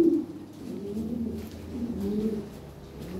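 Large Lahore Siraji pigeons coo in repeated low, throaty rolls, close and fairly loud, with several birds overlapping.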